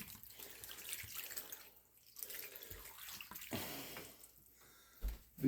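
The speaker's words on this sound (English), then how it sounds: "I'm going to give this group some water too" Water is poured into a worm bin, splashing softly in uneven bursts, quiet and close, with no voices.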